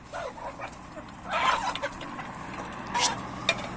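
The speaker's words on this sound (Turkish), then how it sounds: "Bu yumurta tavukları daha şu anda 8-9 aylıklar." Young laying hens around eight to nine months old cluck in a garden flock, with short scattered calls close by over faint outdoor background noise.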